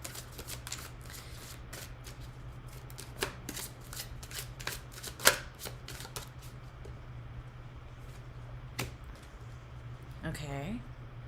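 Oracle cards shuffled by hand during a tarot reading, a run of crisp riffling flicks and taps, close and fairly loud, with a soft low hum underneath and no talking.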